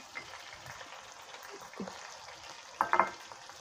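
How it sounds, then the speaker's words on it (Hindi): Green chillies drop into a pan of frying aloo palak, giving a soft steady sizzle with a brief louder crackle and spatter near the end, close and fairly quiet. "अब इसके अंदर हमने डालनी है हरी मिर्चें"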